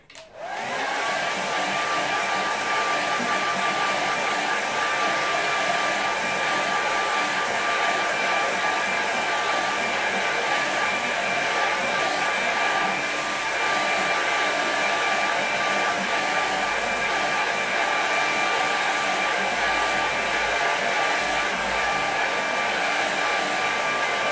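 A hair dryer blows steadily on a watercolour landscape painting, a loud, continuous whooshing roar that starts abruptly and holds at an even level throughout, with no talking.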